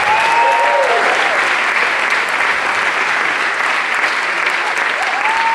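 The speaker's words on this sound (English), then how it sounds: "can we give a huge round of applause" Sustained applause from a sizable crowd at a school instrumental concert, dense and steady clapping that stays loud throughout without a break.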